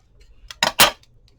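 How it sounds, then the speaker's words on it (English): Scissors trimming a ribbon at an angle: two quick, close snips in rapid succession against a quiet background. "And I'm going to take this ribbon, and you may want to trim it to an angle."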